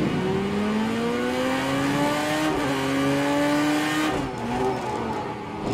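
Car engine in a VR racing game revving hard at full throttle, a loud continuous roar with rising and falling pitch as it shifts, steady and close throughout.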